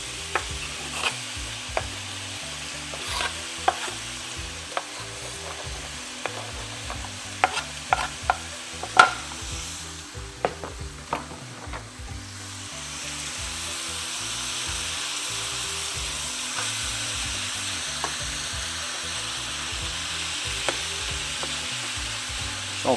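Vegetables and meat fry in a pan for pâté mexicain with a steady sizzle, broken by frequent sharp stirring clinks and scrapes early on, then a smoother continuous fry later, with no talking.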